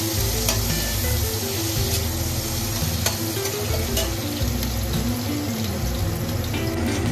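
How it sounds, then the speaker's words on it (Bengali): Onions frying with spices in a pan give a steady, loud sizzle that runs the whole way through, with a few sharp stirring clicks and no talking. "পেঁয়াজটা ভালো করে ভেজে নেব।"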